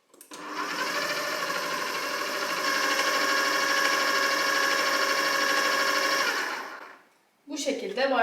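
A kitchen robot running a self-cleaning cycle with water and dish detergent whirs steadily at high speed for several seconds, then winds down and stops, followed by a voice speaking.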